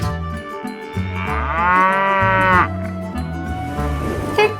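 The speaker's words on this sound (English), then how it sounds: "and 2 Jersey cows." Jersey dairy cows moo from a toy farm animal set, giving a series of loud, close calls with one long, rising bellow in the middle and no talking.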